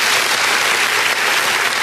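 Studio applause sound effect during a talk show, a dense steady burst of clapping lasting about two seconds at full loudness, with no voices over it.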